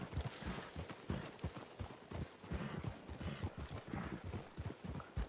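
Hooves of a horse trotting in the video game Red Dead Redemption, a rapid continuous clip-clop with a steady uneven beat, close and clear, with faint background ambience and no talk.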